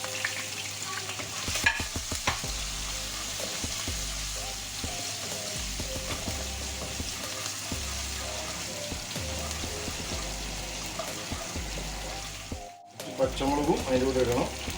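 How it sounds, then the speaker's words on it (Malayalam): Ginger and garlic stirred in hot leftover oil give a continuous, busy sizzle with scattered spatula scrapes, backed by steady music, before the frying cuts briefly and crackles back. "അതിൽ തന്നെ നമുക്ക് കുറച്ച് ഇഞ്ചി വെളുത്തുള്ളി ഇട്ടിട്ട് ഇളക്കിയെടുക്കാം."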